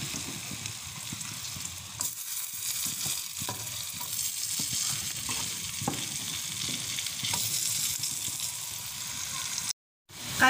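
Fish and chips frying in hot oil give off a steady, loud sizzling crackle that goes on for about ten seconds with a brief cut near the end.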